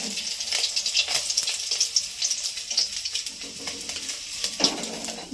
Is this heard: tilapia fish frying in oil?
yes